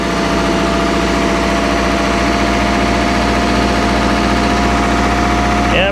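Outboard engine on a 1968 Starcraft Islander boat runs steadily at about 1800 RPM after new parts and electronic ignition, a loud continuous droning hum filling the whole stretch.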